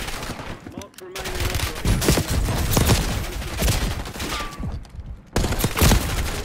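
Rapid gunfire from a Call of Duty video game, with a Jackal PDW on Rebirth Island, rattles in loud repeated bursts with brief gaps, like fast automatic fire and scattered impacts.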